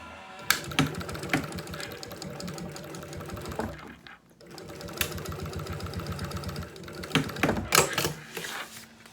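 Sewing machine running a decorative topstitch along a fabric travel toiletry bag with a clear vinyl window, steady rapid needle chatter in bursts with a brief pause midway, close and fairly loud.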